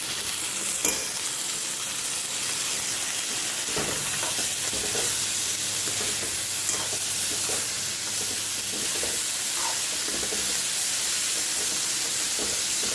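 Cut spiny gourd (kankoda) fries in a pan, giving a steady, close sizzle with scattered stirring scrapes and occasional louder crackles throughout.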